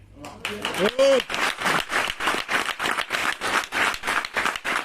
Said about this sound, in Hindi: जितने लोगों ने ताली बजाई